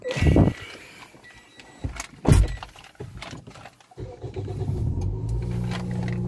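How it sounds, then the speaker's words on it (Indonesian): A Toyota Yaris with a 1NZ-FE engine cranks and starts after a few loud clunks and handling noises, then settles into a steady idle heard close up. "jadi untuk Yaris ini ciri khas banget ya suaranya. Untuk mesin ini 1 NZFE ini memang gitu ya."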